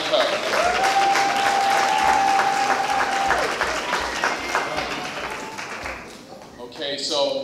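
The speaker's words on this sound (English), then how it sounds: "One more round of applause for Monica" Audience applauding at a school poetry slam, loud sustained clapping from a crowd with a few cheers and a host's voice over it, tapering off near the end.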